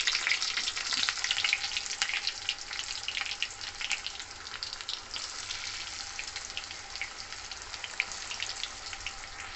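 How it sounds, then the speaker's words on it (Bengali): Dhoka, Bengali lentil cakes, deep-frying in hot oil in a pan, giving off a steady, dense crackling sizzle close up, with no voices over it. "ধোকা এখানে সবগুলো লাল লাল ভাজা হয়ে গেছে"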